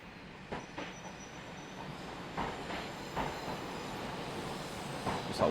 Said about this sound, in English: Oh, there's another train coming in. Look,